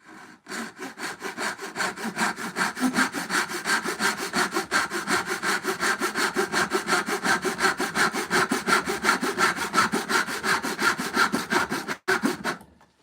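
A freshly sharpened and waxed hand saw cuts through wood in steady back-and-forth strokes, a rhythmic rasping that holds close and even for many strokes before stopping abruptly near the end.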